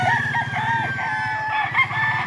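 A rooster crows loudly and close among other chickens at a crowded pre-dawn poultry market in Bocaue, with a steady low hum and clucking beneath.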